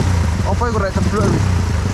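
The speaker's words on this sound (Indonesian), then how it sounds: "Oke, motor jadul beraksi." An old motorcycle engine running in Lumajang, a close low throbbing rumble with someone talking loudly over it.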